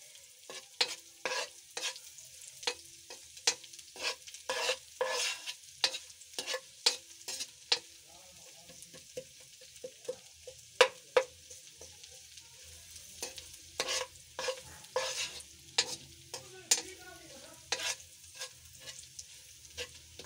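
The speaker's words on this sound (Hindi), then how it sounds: "अब हम इसको भी थोड़ा सा फ्राई कर लेते हैं।" Cumin seeds and garlic fry in a pan, stirred with repeated sharp scraping strokes in an irregular rhythm over a soft, steady sizzle, close and fairly quiet, with no voices.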